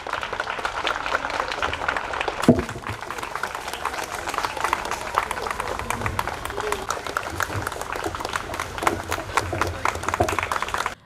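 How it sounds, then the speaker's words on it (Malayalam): A crowd claps continuously for several seconds at a school disability day observance in Palakkad, a dense, fairly loud patter of many hands with voices mixed in. "നല്ലൊരു കൈയടി കൊടുക്കണേ."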